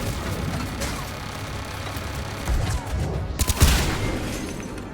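A turret firing in Mass Effect 3 amid busy battle noise, with a steady wash of combat sound and a cluster of louder, sharper shots and impacts near the end.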